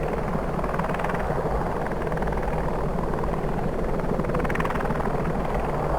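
Steady, continuous helicopter rotor drone with a rumbling engine in a combat flight simulator game, Enemy Engaged: Comanche vs Hokum, constant and fairly loud throughout, no voices.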